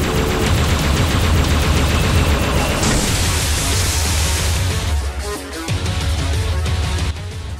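A Type 25 Directed Energy Rifle, the fully automatic plasma rifle from Halo Reach, fires in long continuous bursts, a dense loud stream of rapid plasma bolts that shifts in tone midway and runs alone without talk.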